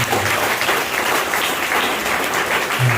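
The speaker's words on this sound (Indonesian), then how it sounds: "Tepuk tangan buat kita." A crowd applauds at a live talk, a dense, steady wash of clapping that stays loud and even for the whole stretch, with no voices over it.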